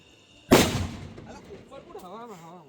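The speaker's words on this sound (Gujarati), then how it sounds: "જુઓ હાથમાં ફોડે છે બોમ્બ, એ બી હુતળી બોમ્બ" A single loud sutli bomb firecracker blast goes off sharply during Diwali, its boom decaying over a second, followed by voices talking and a rising whistle-like tone.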